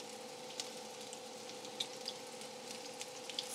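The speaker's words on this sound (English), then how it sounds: "We're going to fry them probably 2 to 3 minutes." Onion rings fry in a pan of hot oil with a soft, steady sizzle, quiet and close, broken by a few sharp little pops and crackles.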